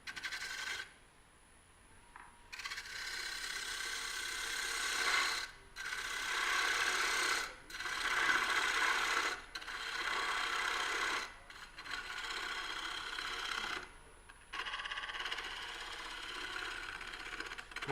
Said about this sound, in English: I'll take my gouge and I'll go in here and we'll get away whatever we can